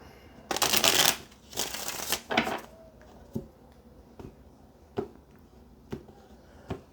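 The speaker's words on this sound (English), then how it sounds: "let's get one more shuffle" Tarot cards are shuffled in a few quick riffling bursts, followed by soft, evenly spaced taps as cards are laid or squared.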